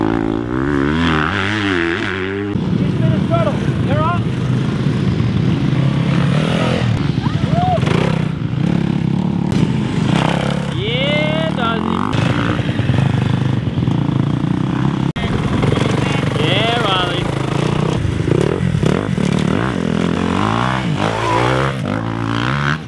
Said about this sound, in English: Good riding with Taylor?